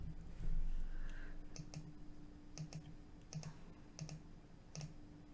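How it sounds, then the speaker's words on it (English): Keystrokes on a computer keyboard come in short, separated clusters of clicks with small gaps between them, close and fairly quiet over a faint steady hum. "I'll type it again."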